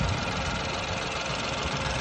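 A 2012 Ford Focus engine idles steadily in the open engine bay, a smooth, even running hum heard close up with no talking.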